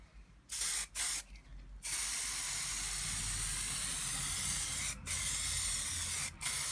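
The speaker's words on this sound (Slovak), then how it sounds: "Striekam to ešte s tým prvým sprejom, teda s tým, s ktorým som striekal predné koleso" A spray paint can coats a motorcycle wheel on a cafe racer build, first in a few short hisses, then one long steady spray, broken by brief pauses near the end.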